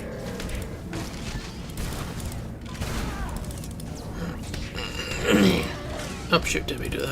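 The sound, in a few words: gunfire from SWTOR (Star Wars: The Old Republic) video game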